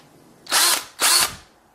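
A power drill, spinning up in two short whining bursts about half a second each, near and loud against a quiet room.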